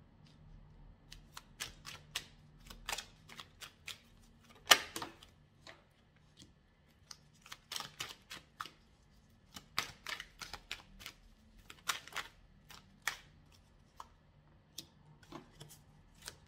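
Tarot cards being handled and laid out on a table, a quiet scatter of sharp, close clicks and taps with irregular spacing and short pauses, heard alone with no talk.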